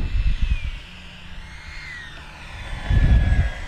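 Jet aircraft engine roaring as afterburners light, a loud rumbling blast that swells, eases, then surges again with a whining tone above, close and without talk.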